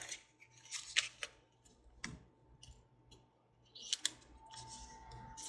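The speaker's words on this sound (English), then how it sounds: "Add a few more pieces of the tape." Pieces of tape are torn and pressed onto a handmade Christmas card in a quiet room: short, crisp ripping and clicking bursts come in quick irregular clusters, separated by near silence and a faint steady hum.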